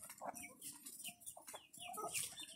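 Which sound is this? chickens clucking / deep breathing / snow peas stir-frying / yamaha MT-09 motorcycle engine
chickens clucking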